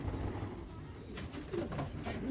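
Racing pigeons in a loft, young birds and blue bars among them, coo in soft low repeated calls, close and steady against a dense background of rustling and bird murmur.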